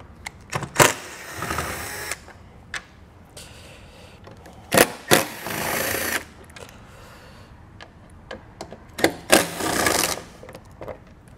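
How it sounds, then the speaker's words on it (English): A T20 Torx bit on a power driver backing out screws near a trim ring on a 2021 Mini Cooper during a hitch installation, several short whirring bursts separated by pauses, fairly close and clear. "We'll remove those with a T20 Torx bit."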